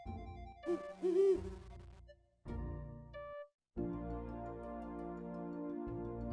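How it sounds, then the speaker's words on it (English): Owl hooting in the adventure game Loom, a few soft tonal hoots over a sustained synthesized music bed with low drones, moderately quiet and close. "There's an owl in there."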